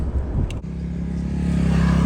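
A car climbing a mountain road in Himachal on a Delhi to Nahan road trip, its engine a close, steady drone that swells slightly, with a brief knock near the start and no voices.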